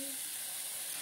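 Onion frying in a pan on a wood-fired chulha, a steady close hiss and sizzle lasting about a second with no voices over it.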